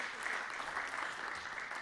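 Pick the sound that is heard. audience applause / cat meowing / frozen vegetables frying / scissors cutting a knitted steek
audience applause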